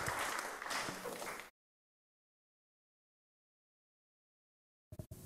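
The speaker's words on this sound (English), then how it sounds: "Give her a round of applause." A burst of applause from a crowd for about a second and a half, then silence, with a brief return of sound near the end.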